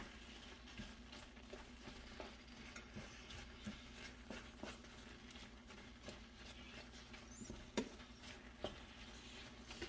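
Spinach being stirred into a cheesy white bean dip, quiet soft scraping and wet tapping strokes repeating irregularly, faint and close with no talk.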